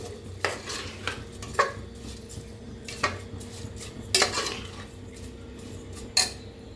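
Washed rice being dry-roasted in a pan for Maharashtrian masale bhat, with a spoon scraping and clinking against the metal in scattered strikes over a soft low hum, moderately quiet.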